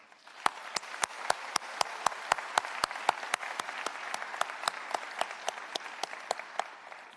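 A high school graduation audience applauds the seniors. The clapping is steady and sustained, with sharp, evenly spaced claps standing out loudly above the general crowd applause.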